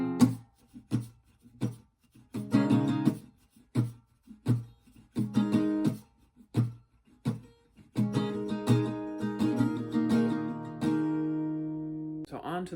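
Acoustic guitar playing the break of a song in its live version, sharp muted strums with choppy gaps at first, then fuller ringing chords toward the end, close and solo.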